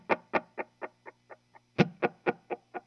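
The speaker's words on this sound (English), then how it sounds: "that gives it more of a tape kind of sound." Electric guitar played through a Fender effects pedal set for a tape-like sound, giving a run of about a dozen evenly spaced plucked notes that fade between hits, close and clear with no talking.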